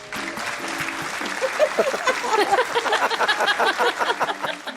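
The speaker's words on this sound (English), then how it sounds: "That's quite the clap, Demetrius." A podcast audience breaks into applause, claps building to a dense, loud patter midway with voices talking over it, then easing toward the end.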